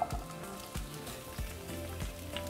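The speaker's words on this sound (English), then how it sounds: "we're going to start by frying our onion and garlic cloves" Soft, steady sizzling of onion and garlic frying in hot oil for Mexican shrimp soup, with a few faint low knocks in the background.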